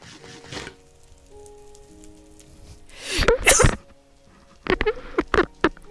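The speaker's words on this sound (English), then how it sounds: "My sneezes are very violent." A person's sneeze bursts out loud and close, a sharp violent burst followed a moment later by a second noisy sneeze, over quiet game background tones.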